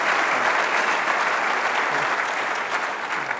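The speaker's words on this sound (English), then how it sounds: "You can clap." Keynote audience at an engineering conference applauding, a dense, steady wash of clapping from a large hall that holds evenly for a few seconds, with no voices over it.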